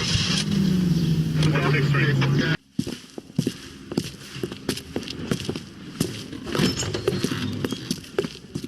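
A car is driven in the video game L.A. Noire, with a low engine hum and road noise, then a cut to scattered clicks and bumps while characters talk.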